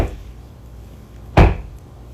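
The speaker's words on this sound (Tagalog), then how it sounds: "May narinig akong kumatok sa pinto ko." A single sharp wooden knock or bang on a house door, close and loud, standing alone in an otherwise quiet room with faint background hiss.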